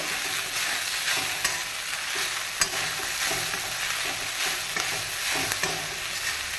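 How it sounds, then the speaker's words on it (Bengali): Dry-roasted peanuts stirred in a hot pan for sabudana khichdi, an even sizzle under repeated spatula scrapes and light knocks, close and continuous. "ড্রাই রোস্ট করা আছে বাদামটা দিলাম। এবার একটু করে নেড়ে"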